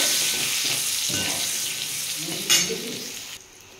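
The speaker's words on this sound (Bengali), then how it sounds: "বেগুনগুলো আমি হালকা করে ভেজে নেব।" Eggplant pieces dusted with turmeric fry lightly in oil, a close steady sizzle with stirring and a sharp clatter of a spatula near the end before it softens.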